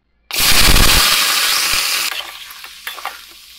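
Crab pieces dropped into hot oil burst into a loud, close sizzle that roars for a couple of seconds, then settles into a softer crackle with scattered pops as the crab kulambu gets started.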